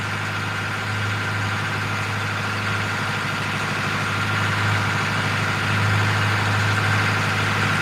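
Fishing boat engine running steadily at idle, a continuous low droning hum with a slight rise in level toward the end, heard alone without talk.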